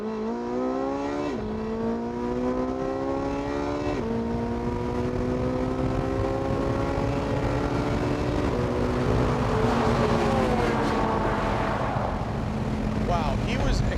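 A Porsche 918 hypercar accelerates flat out down a straightaway, its engine note climbing steadily through upshifts in a loud, continuous, sustained roar heard from a distance.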